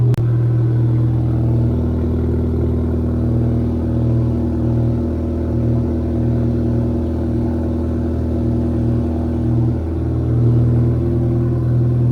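A car engine idles steadily after arriving from a drive through heavy rain, a continuous low rumble close by with no voices over it.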